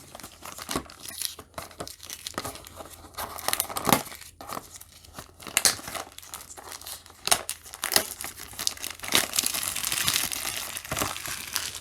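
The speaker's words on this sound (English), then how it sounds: "We're going to get the plastic off." Plastic wrap crinkles and tears as it is pulled off the box of a Mini GT Isuzu N Series vehicle transporter model car, loud, close, continuous rustling with sharp rips and no speech.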